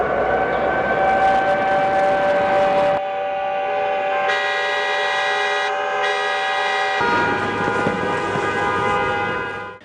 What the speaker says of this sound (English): cars, trains and ships sounding their horns and air raid sirens ringing out